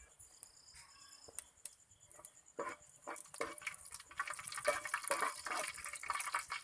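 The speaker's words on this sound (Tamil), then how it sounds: "ஜீரகம் நல்லா பொரிஞ்சிருச்சு" Cumin seeds splutter in hot oil in a kadai, a soft crackle of scattered pops and fizzing that grows busier and denser toward the end, with no talking.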